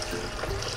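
Water pours steadily into a cooking pot with bones for Bannu-style beef pulao, about four litres going in as a soft, continuous rushing splash with no voices.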